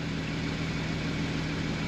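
A Porsche Cayman GTS engine idles steadily with a low, even hum and faint vibration, heard from inside the cabin with no talk.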